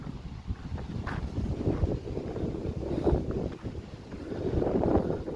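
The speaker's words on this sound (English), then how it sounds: "the wind is terrible, guys. It's really picked up over the last hour or so" Strong wind roars and gusts across an outdoor cemetery, buffeting the microphone in a continuous low rumble that swells and eases throughout, with no talking.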